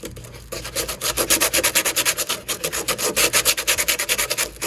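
Sandpaper worked by hand across a tractor fender where small metal tabs were cut off, a close, steady rhythmic rasping of quick back-and-forth strokes that runs throughout without any talk.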